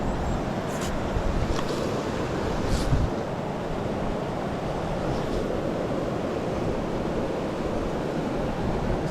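Steady, strong wind roars across the microphone beside a river during fly fishing for rainbow trout in New Zealand, with rushing water underneath, a continuous broadband rumble with no pauses.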